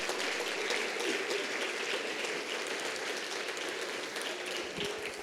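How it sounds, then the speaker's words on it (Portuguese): A church congregation applauds steadily at a prayer and intercession service, a dense, even wash of hand claps filling the room for several seconds without pause. "Aplauda o Senhor, então."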